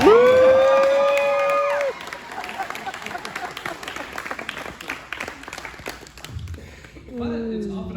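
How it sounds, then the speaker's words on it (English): An audience at a school election event applauds and cheers for the candidates after a brief spoken line, with scattered clapping and crowd noise that thins out, then voices return near the end. "Can I get an applause for the candidates?"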